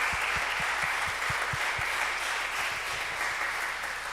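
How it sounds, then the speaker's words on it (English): An audience at a kindergarten graduation applauds in a steady wash of clapping, with a few distinct nearby claps standing out early on before fading into the crowd. "So a round of applause for you guys."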